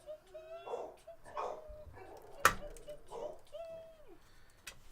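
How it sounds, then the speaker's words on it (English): Dogs bark indoors in short bursts, some sharp and fairly close, with quieter whimpering tones, beside a home computer build with someone talking. "There go the dogs."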